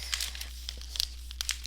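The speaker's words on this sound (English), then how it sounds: "this is probably very loud and crinkly as I hold it" Crinkly plastic packaging of a low carb keto nut granola being handled up close, with scattered sharp crackles and rustles in short bursts across the moment, fairly loud.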